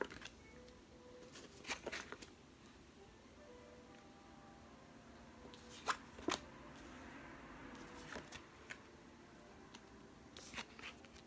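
Tarot cards from a Celtic cross spread being flipped over one by one on a table, giving soft sparse snaps and papery slides that come in small clusters, close but quiet.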